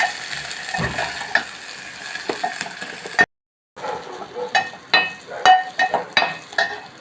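Green chilies and curry leaves sizzle softly in a pan with scattered clinks and scrapes of a utensil, a brief silent gap midway, then sharper stirring clatter.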